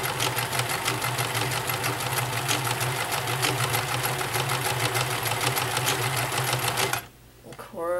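Vintage Nelco convertible free-arm sewing machine running steadily, stitching zigzag and straight stitch with a fast, even mechanical clatter for about seven seconds before it abruptly stops, leaving faint movement noise.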